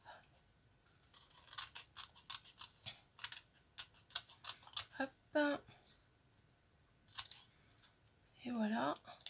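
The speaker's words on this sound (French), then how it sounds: "je vais les découper" Scissors snip through die cuts that were backed with paper, a run of short crisp cuts and clicks in close-up, broken by brief pauses and a few quiet voiced sounds.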